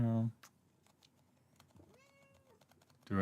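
A person imitating a cat, giving a couple of soft, sliding vocal meows between louder bursts of talk at the start and end.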